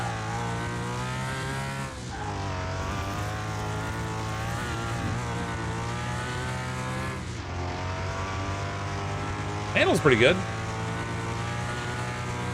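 A video game car engine drones steadily with shifting revs throughout, while someone talks over it and a brief squeal cuts in near the end.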